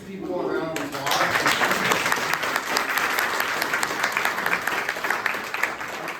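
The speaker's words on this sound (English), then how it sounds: "give these people a round of applause" Loud, close applause from an audience at a neighborhood council fire preparedness meeting honoring CERT members, starting abruptly after a brief voice and continuing as a dense, steady clatter of many hands.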